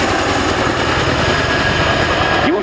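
An RAF Chinook twin-rotor helicopter flies a pedal turn at an air show, a loud, continuous engine and rotor roar filling the whole stretch with a rising whine near the end.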